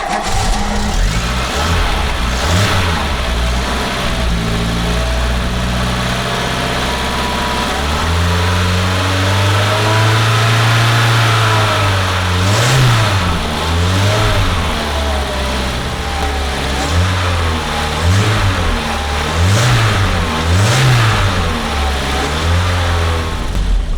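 A Peugeot 205 GTI 1.9 engine runs steadily up close, with repeated rising revs in short bursts over a low, continuous idle throughout.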